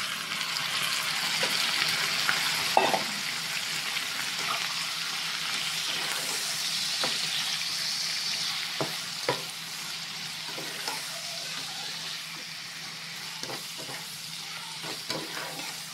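Pork and liver frying in a pan while being stirred, a continuous loud sizzle with scraping strokes of a spoon and occasional clacks against the metal, no voices.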